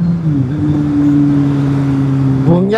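A vehicle engine holds a steady, loud buzzing drone, then revs up sharply near the end, close by.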